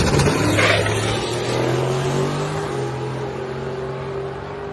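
A drag racing car's engine drones loud and steady as the driver feathers the throttle, its pitch wavering and stepping slightly, with a brief higher whine near the start and no talking.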